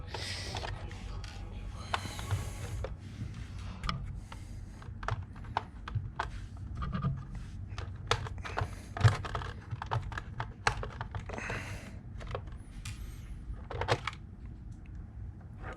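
Four plastic battery cover clips on an SG-1604 Pinecone Model RC model are pried open: a scattered run of small, sharp, faint clicks and snaps at close range, with no talking.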